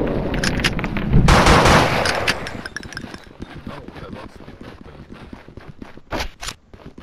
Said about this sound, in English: I put explosive ammo in all the weapons today.